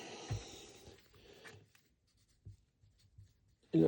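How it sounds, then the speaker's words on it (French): Marker pen scribbling on a small strip of masking tape, a few short squeaky strokes near the start, then quiet with faint taps and a loud knock at the end. "Je prends un marqueur."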